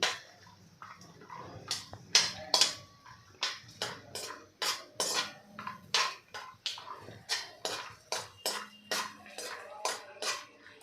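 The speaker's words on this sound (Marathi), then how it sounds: "हे काजू आणि बदाम दोन ते तीन मिनटे आपल्याला फक्त परतून घ्यायचे आहे" Cashews and almonds being sautéed in hot ghee in a pan, with a spoon striking and scraping the pan in a quick, regular series of close, sharp clinks and stirs, and a faint hiss beneath.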